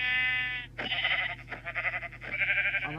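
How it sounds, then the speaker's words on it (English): A sheep in the video game Minecraft bleats in a short wavering call, followed by a series of quick rhythmic game sound effects in close succession. "Oh, sheep, there you are"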